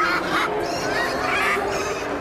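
Parrots and macaws in an aviary at a pet festival give loud, overlapping harsh calls and squawks, continuous and close throughout.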